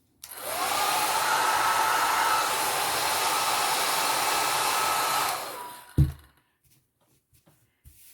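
A hair dryer drying an alcohol ink landscape painting blows steadily for about five seconds, loud and close, then switches off with a thump and a few faint knocks.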